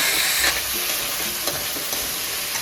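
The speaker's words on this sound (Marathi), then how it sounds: "यात थोडा साबुदाणा घालायचा, साबुदाणा पण 1 मिनिटभर परतून घ्यायचा।" Sago pearls stirred and sautéed in a hot pan, a steady close sizzle with soft scraping strokes from the spoon throughout, no talking.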